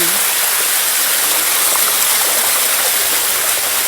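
A forest waterfall roars as a dense, steady white rush of water, loud and close, filling the whole moment without pause.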